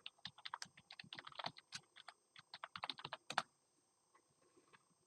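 Rapid close typing on a computer keyboard, a quick irregular run of crisp key clicks entering a password, ending in a sharp final keystroke and then quiet.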